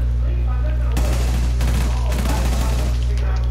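Rapid automatic gunfire in the tactical shooter Rainbow Six Siege, two loud sustained bursts over a steady game hum, with no voices.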